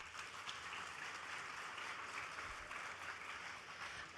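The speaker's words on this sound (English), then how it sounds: "Give yourselves a round of applause." An audience applauds steadily throughout, a dense, even patter of many hands at moderate distance, without any speech over it.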